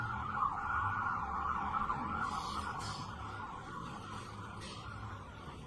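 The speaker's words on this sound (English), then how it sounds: "wait until the sirens pass" A siren wails steadily in the distance over low traffic rumble, gradually fading as it moves away.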